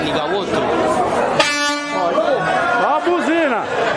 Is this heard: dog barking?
no